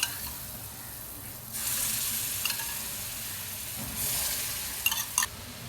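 Chicken liver fries with curd in a pan, a quiet hiss that swells into louder sizzling bursts as it is stirred, ending in a few sharp clinks of the spoon, with no talking.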